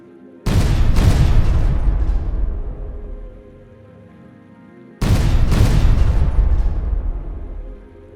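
A turret from the Aryx Weapon mod in Space Engineers fires two booming salvos several seconds apart, each a loud, close blast that rumbles on and fades away.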